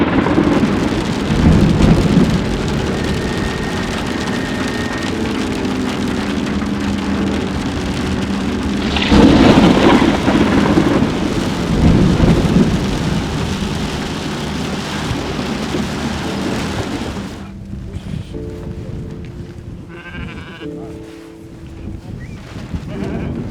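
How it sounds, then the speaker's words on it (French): Steady heavy rain hisses on surfaces while rolling thunder swells and fades beneath it, with a louder rumble midway before the downpour thins out near the end. "parfois aussi sous la pluie"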